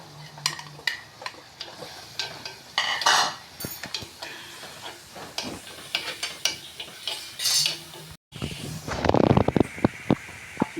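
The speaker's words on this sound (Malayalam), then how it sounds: "ഇനി കറിവേപ്പിലയും കൂടെ ഇട്ട് കൊടുക്കാം." Curry leaves dropped into a hot pan for fish curry, with a soft sizzle under busy scraping, stirring and sharp clinks of a metal spoon against the pan, ending in a louder burst of frying.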